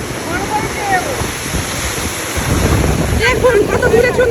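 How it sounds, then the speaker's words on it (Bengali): Big ocean waves crash and surge along a beach at Cox's Bazar, with a steady wash of surf, wind buffeting the microphone and louder breaking water toward the end; voices are faint in the mix. "অনেক বড় বড় ঢেউ।"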